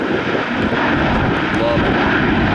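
Boeing jet airliner deploying clamshell thrust reversers while plane spotting at Minneapolis, heard as a loud, steady, broadband engine roar that holds unbroken throughout.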